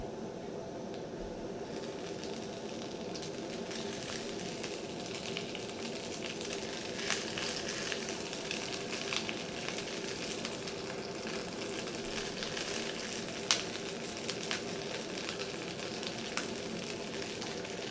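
Food fries in a pan over a camp stove, a constant close sizzle with occasional light clicks of stirring.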